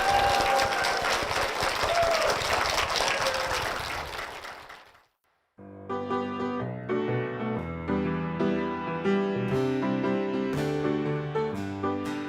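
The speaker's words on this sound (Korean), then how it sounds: "여러분 큰 박수로 응원해 주십시오" A church congregation applauds after a testimony, a full round of clapping that fades out after about five seconds, followed by a short silence and then music.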